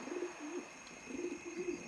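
A pigeon in a video game coos softly in a few repeated, low rolling phrases over a steady faint electronic hum, with no talking.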